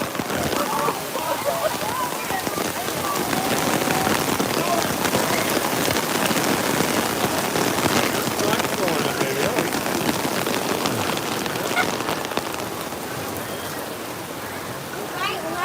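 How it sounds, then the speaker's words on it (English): Rain falls at Animal Kingdom: a dense, steady patter and splash on surfaces all around, close and loud throughout, with faint crowd voices mixed underneath. "I wish it was fake rain."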